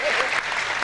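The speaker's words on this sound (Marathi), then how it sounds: "टाळ्या वाजवा तुम्ही." Audience applause at a Marathi comedy poetry show, a short steady burst of clapping from a crowd, moderately loud and continuous throughout, with no talking over it.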